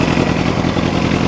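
A Kawasaki ZX7R motorcycle engine running in first gear during a rebuild, a loud close, steady rumbling mechanical drone with a faint clatter and no voices.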